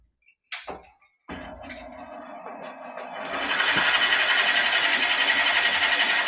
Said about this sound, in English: If I want to remove a little more wood, I can use this Forstner bit.